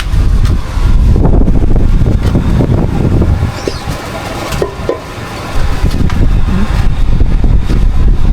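Strong wind gusting outdoors, a loud steady broadband roar with heavy low rumble that dips briefly in the middle before surging back.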